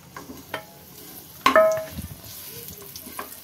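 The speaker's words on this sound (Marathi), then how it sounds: "परतून घ्यायचा आहे। तर हे छान परतले गेले आहे खजूर।" Ground dates are stirred and sautéed in ghee in a pan, with soft sizzling, scraping spoon strokes and a sharp clink of utensil on metal, fairly quiet and without talk.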